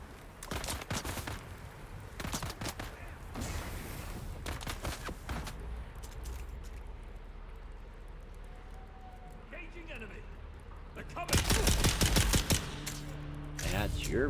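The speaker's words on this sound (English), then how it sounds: "Who's shooting me?" Bursts of gunfire in the video game Dune: Awakening, a rapid volley early on, scattered shots through the middle and a loud, dense burst near the end, heard under talking.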